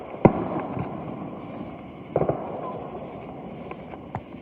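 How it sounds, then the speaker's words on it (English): Consumer fireworks from a 49-shot TNT Monster Mayhem cake fire outdoors: a sharp lead bang, then a quiet stretch, a cluster of two or three pops, and a few scattered fainter reports over steady background noise. "this is the Monster Mayhem 49 shots from TNT."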